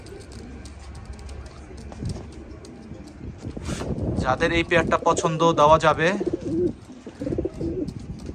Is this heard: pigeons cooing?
yes